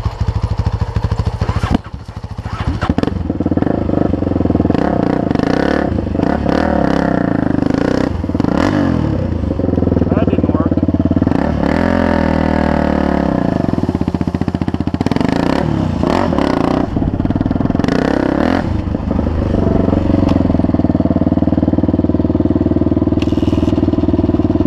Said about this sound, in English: Dirt bikes are easy to turn around.